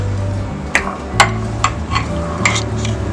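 A spoon stirring vegan rice pudding with hazelnut butter in a bowl, soft scraping under a low hum, with several sharp clinks of utensil against dish.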